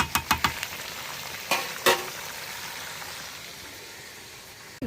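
Chinese duck meat roast sizzles and fries in a pot, a steady crackling hiss broken by a few sharp clanks and scrapes of stirring near the start.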